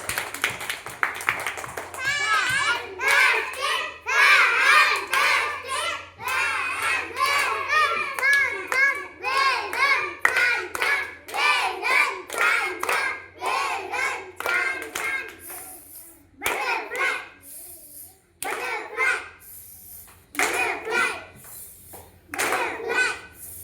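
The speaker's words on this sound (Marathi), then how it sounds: "तर छानपैकी टाळ्या वाजवायच्या आता सगळ्यांनी." A group of schoolchildren clap their hands in quick, sharp bursts that repeat throughout, loud and close, with young voices speaking and chanting between the claps.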